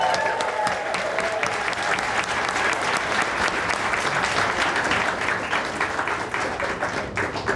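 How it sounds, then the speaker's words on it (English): Thunderous audience applause at a 20th anniversary celebration, sustained dense clapping with sharp individual claps standing out, running strongly from start to finish. "Can we please stop and give another thunderous applause for Andrea and herself?"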